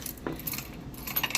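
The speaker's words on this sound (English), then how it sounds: "Here's the keys." A bunch of metal keys on a key ring jingling and clinking in short light bursts, close but fairly quiet, with no talking.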